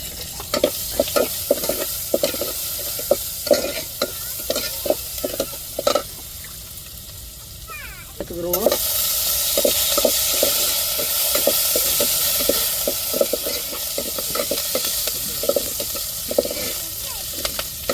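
Garlic stir-fried in a hot pan for a rasam, a steady sizzle with repeated scraping strokes of a spoon, the hiss swelling louder after a fresh addition partway through.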